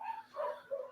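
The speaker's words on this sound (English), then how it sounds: "That's my dog's going crazy" A dog barks and yips excitedly in a quick series of three nearby calls, with a steady faint hum underneath.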